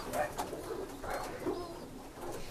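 A moulting racing pigeon coos nearby in a few soft, throaty rolling calls, repeated with short pauses between them.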